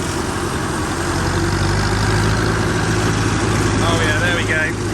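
Old tractor engine labouring at low revs during pasture topping, a loud, steady, close diesel drone with constant rumble and vibration and no talk.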